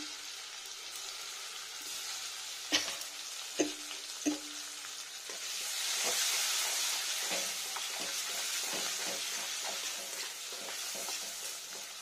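Tomato pulp fries in a pan for a potato, pea and paneer curry, a soft sizzle that swells midway, punctuated by a few sharp clinks of utensil on pan.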